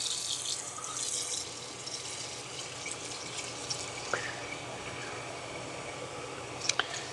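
Water running from a kitchen faucet into a pot for steaming broccoli, a faint continuous hiss and splash with a few clinks near the end, no talking.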